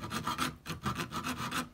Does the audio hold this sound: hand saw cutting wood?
yes